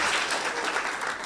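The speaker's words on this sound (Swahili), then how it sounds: "Wapi makofi yao?" A crowd at a Kenyan political rally claps steadily and densely throughout, a continuous close wash of applause with no pauses.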